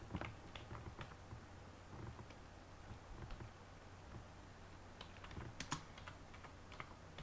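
Quiet typing on a computer keyboard, a run of soft irregular key clicks with a few sharper taps, close and faint over a low steady hum.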